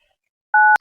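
A phone message notification sounds as a short two-note electronic tone, lasting about a quarter second and ending in a faint click, after a brief silence.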